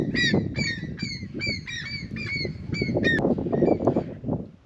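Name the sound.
seagulls calling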